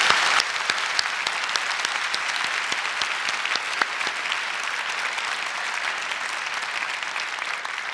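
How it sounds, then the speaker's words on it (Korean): A church congregation applauds during a Sunday service marking the church's 30th anniversary, producing a full, steady roar of many hands clapping that continues evenly for about eight seconds. "우리가 드릴 수 있는 최고의 영광의 박수를 다시 한번 주님께 올려드리겠습니다"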